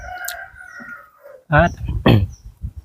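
A rooster crows in the morning at a rural Thai home, a drawn-out call at moderate distance, followed by loud nearby talking.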